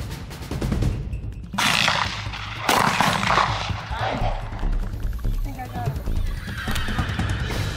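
Shotgun blasts at a dove hunt on private land in Nevada ring out as a few sharp outdoor reports over an open-field background, with voices talking around the shots.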